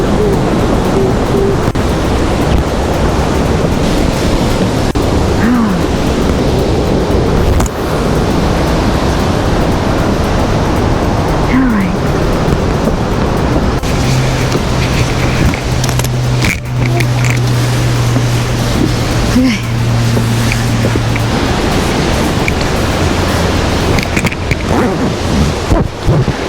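Three waterfalls at Falls Hills Creek on a hiking trail give a steady, loud broadband roar of rushing water that fills the whole stretch evenly, with faint low tones briefly rising above the wash.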